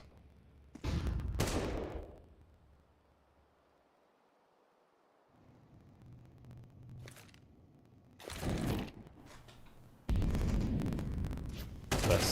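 Gunfire in a Counter-Strike match: short, loud bursts of shots near the start, then heavier volleys late on, separated by quieter stretches of low ambient game noise.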